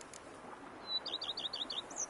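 A bird in The Witcher 3: Blood and Wine chirps a quick series of about eight high, bright notes over a faint, soft outdoor ambience.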